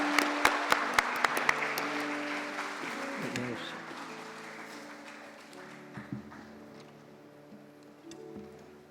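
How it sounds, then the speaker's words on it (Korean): Church congregation applauding award recipients after a ceremony during a Sunday service, steady clapping with a few sharp claps at the start, fading gradually, with faint voices mixed in. "큰 박수 부탁드립니다"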